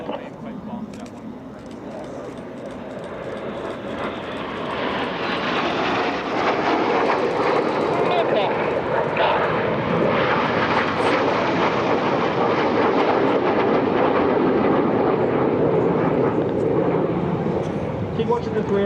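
RAF Red Arrows jets flying an air display at EAA AirVenture, a loud sustained roar that builds and holds as the aircraft pass, with a commentator's voice heard over it.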